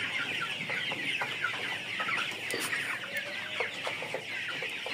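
Chickens cluck and chatter steadily throughout at a poultry farm, with a dense, continuous flock murmur and scattered sharper calls from individual birds at mid distance.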